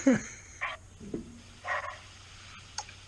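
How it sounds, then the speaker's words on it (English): Dogs bark in the background indoors, several short sharp barks and yips spread irregularly, moderately loud and somewhat distant, with no speech over them. "Just my dogs are in the background."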